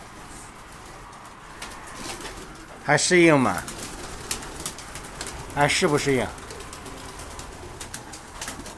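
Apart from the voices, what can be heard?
young pigeons cooing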